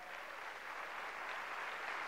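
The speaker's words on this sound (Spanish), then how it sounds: "Dale un aplauso al Señor." Steady applause from a church congregation, a continuous dense patter of clapping lasting the full two seconds with no voices on top.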